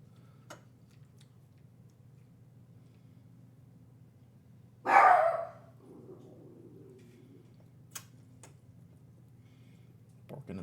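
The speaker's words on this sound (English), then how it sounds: "Barking at something." A dog gives a single short bark in the distance, a brief burst in an otherwise quiet room with faint ticks around it.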